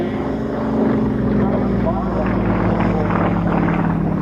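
A Yakovlev Yak-50 single-seat aerobatic plane with over 300 horsepower flies at a 1996 Duxford airshow, its propeller engine a loud steady droning rumble throughout, with a commentator talking over it.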